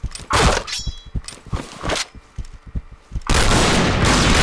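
Gunfire in the shooting game Point Blank: a run of sharp, loud shots in quick irregular bursts, then a dense, continuous roar of fire near the end, with no talking.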